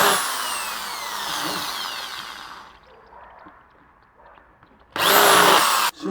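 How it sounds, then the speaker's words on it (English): A power drill deepens screw holes in wood, its whining motor running loud and steady before winding down, then a second short, loud burst of drilling near the end. "just cleaning up these holes a little, make it a little deeper so that the screws disappear in it"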